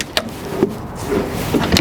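A pull-out counter drawer on a 2020 Winnebago Intent 28Y Class A motorhome slides on its runners, making a short rolling glide with light knocks at the start and end, close and alone.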